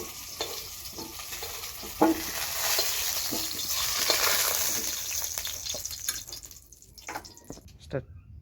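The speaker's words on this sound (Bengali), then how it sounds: "হালকা ভাজা হয়ে গেছে, এখন নামিয়ে নিব।" Onion paste ground with garlic, chili and cumin fries lightly in a pan with a steady soft sizzle, broken by scraping, stirring clicks and a few sharper knocks of the spatula.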